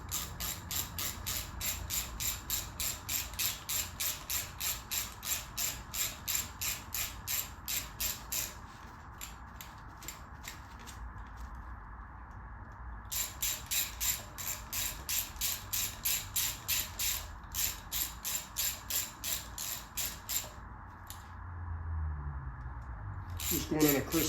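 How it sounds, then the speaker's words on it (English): Knurled socket extension spun by hand while loosening fasteners on a Harley FXSB front wheel, giving a rapid, steady ratchet-like clicking that runs in long stretches with brief pauses, close and moderately quiet. "If you use a knurled extension, you can kind of twist it all with your hand."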